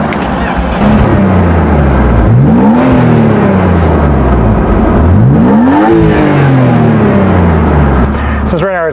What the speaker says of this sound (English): let's start it up and let's hear that little engine.